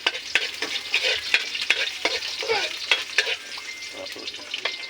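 Garlic sizzles in oil in a pan for beef adobo, with steady frying crackle and repeated scraping strokes of a spatula stirring it, close-up and moderately loud.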